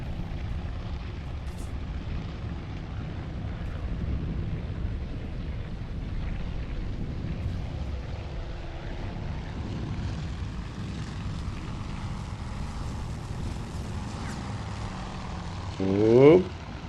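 A Wildcat fighter plane flies through flak in the carrier warfare game Task Force Admiral, giving a steady engine drone under battle rumble that swells briefly near the end.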